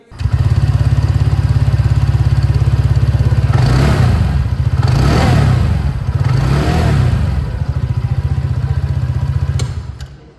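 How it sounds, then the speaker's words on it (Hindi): A TVS Ntorq 125 scooter engine idles steadily, then revs up sharply three times in quick succession before settling back to a loud, close exhaust idle. "एंटॉर्क 125 है इसकी जो एग्जॉस्ट साउंड है वो मैं आप लोगों को सुना दूँ।"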